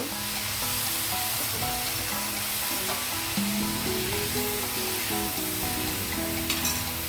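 Peas and tomato go into a cauliflower curry frying in a pan, setting off a loud, steady sizzle with soft stirring scrapes, close by and without voices.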